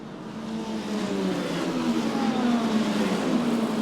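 FIA WEC endurance race cars, including a Ferrari and a Porsche, racing at Bahrain, their engines whining in rising and falling tones as the pack passes at a distance, a continuous layered drone.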